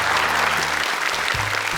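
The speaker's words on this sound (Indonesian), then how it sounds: "Boleh tepuk tangan untuk Dewan Juri" A studio audience at an Indonesian televised Quran memorisation contest applauds the jury with dense, loud, continuous clapping throughout, with a low murmur underneath.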